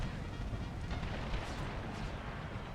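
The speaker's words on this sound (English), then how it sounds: "Oh, they have artillery back here too." Artillery fire in an Empire: Total War battle, heard as a dense, continuous rumble of distant cannon blasts and crackling gunfire with no clear gaps, steady and fairly loud.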